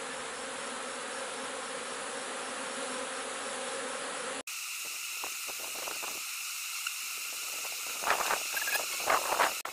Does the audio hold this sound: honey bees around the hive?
yes